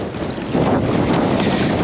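Strong wind roars over the sea during sea trout fishing from a boat, buffeting the microphone in a loud continuous rush that never lets up.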